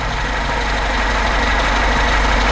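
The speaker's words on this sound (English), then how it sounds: "The engine is still cold and I don't have a choke on it, but it responds to throttle very," Cold 1983 Lada VAZ 2106 engine without a choke idling up close, a loud steady low rumble with a slight knocking texture and no talking.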